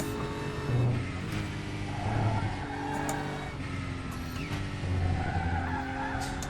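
Short tire chirps and squeals from a BMW M4 GT3 in the racing simulator RaceRoom, cutting in repeatedly over the steady drone of the engine as the car works through corners.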